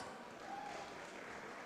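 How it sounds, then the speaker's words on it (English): Crowd applause at a Siasa Place tenth anniversary event: a faint, even wash of clapping from a distance, steady throughout. "A lot of applause for Ford Foundation."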